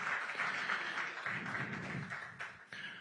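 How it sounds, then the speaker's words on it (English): Audience applause at a Polish-American summit event, a steady wash of clapping from a crowd lasting about three seconds with no speech over it. "One more round of applause for Karol Nawrocki."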